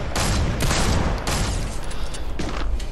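Rapid bursts of gunfire in Fortnite Season 8, several loud broadband shots clustered near the start and again later, dense and close over a noisy game soundscape.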